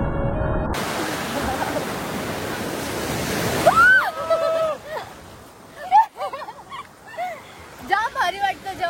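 Sea waves rush and break on the shore at Malvan as a broad, steady wash of surf for the first few seconds, then fade beneath a voice and other talk for the rest.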